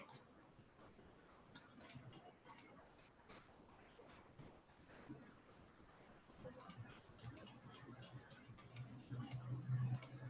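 Sparse, sharp computer mouse clicks come in small clusters at the start and again near the end, faint and close, over a quiet background hiss.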